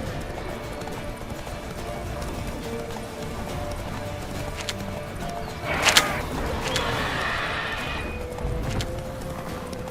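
Hooves of Roach, a horse in The Witcher 3 video game, clip-clop steadily throughout over a busy game soundscape, with a brief louder burst midway.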